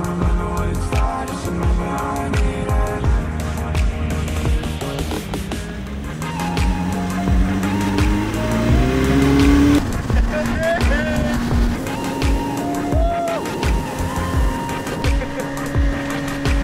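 A car engine warming up after repair work on a boat trailer, running unevenly with rising and falling revs and a rough mechanical tone, with people talking over it.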